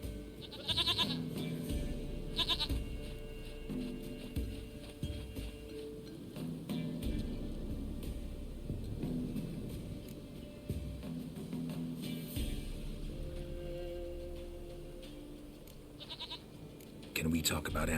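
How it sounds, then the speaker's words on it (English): Goat bleats from The Witcher 3: Wild Hunt come in several short cries across the stretch, under almost continuous talk and ambient game sound. "Goat of mine, dearest,"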